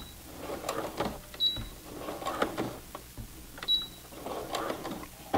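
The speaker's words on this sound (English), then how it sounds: "And then I'm going to back stitch." A Brother PC 420 sewing machine back stitches a jeans hem, with three short whirring runs of the motor separated by brief pauses and faint mechanical clicks, close and clear.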